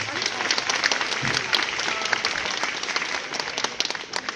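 Audience at an iftar gathering in Uluköy applauding, a full crowd of hands clapping steadily and loudly, with some voices mixed in.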